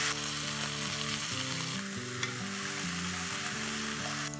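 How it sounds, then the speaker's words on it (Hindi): Soaked urad dal fries in a pan on the stove, a steady, close sizzle and crackle running throughout, with occasional stirring scrapes and no talk. "उड़द की दाल, इसे थोड़ी देर तक फ्राई कर लेते हैं"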